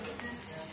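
Curry leaves fry in hot oil in a pan while cooking Payyoli chicken fry, giving a brief, steady, crackling sizzle.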